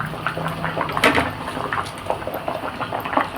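Vegetables and pechay simmer in a coconut milk stew with pampano fish, giving a steady close bubbling and sputtering with small pops, no voices.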